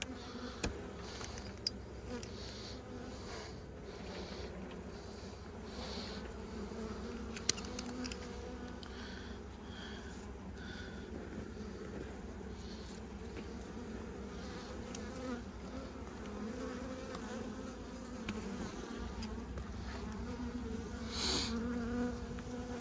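Honeybees buzzing steadily around an open hive during an anti-swarming inspection, a dense continuous drone of many insects close by, with occasional louder passes near the listener and no talking.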